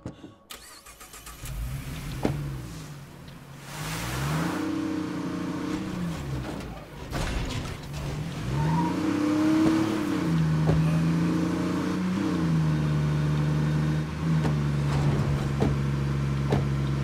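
Car in the State of Decay 2 video game starting up and driving, the engine revving repeatedly with rising and falling pitch, then settling into a steady drone, fairly close with no talking.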